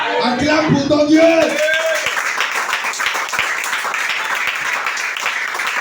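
A church congregation in Libreville, Gabon applauds together, a loud, steady wash of clapping that follows a brief burst of voices and then carries on alone.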